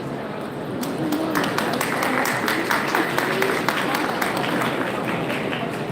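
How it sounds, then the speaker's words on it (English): A large crowd claps steadily at a formal ceremony at the Kennedy Center marking the 70th anniversary of the Korea–US alliance. The applause is dense and sustained at an even level across the whole stretch, with no voices over it. "Please join me in a big round of applause."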